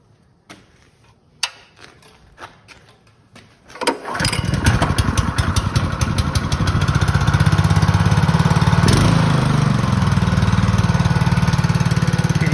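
Small engine with its carburetor just refitted and choke set: a few clicks and one pull-cord strike, then it catches and roars into a loud, steady running drone that holds to the end.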